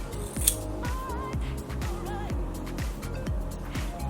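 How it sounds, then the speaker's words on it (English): Scissors snip through hair bangs at home in a quick rhythmic series of close metallic cuts, about eight evenly spaced snips with faint rustling between them. "I'm gonna cut it like about here."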